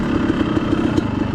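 Motorcycle engine during a wheelie attempt, a loud, close, steady droning roar held for just over a second with a slight throb and no speech.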